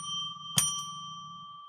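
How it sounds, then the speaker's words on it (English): A bell rung to declare sacred space: a single bright strike on an already ringing tone, its clear metallic note sustaining and slowly fading alone in a quiet room. "let's ring a bell 3 times to declare sacred space"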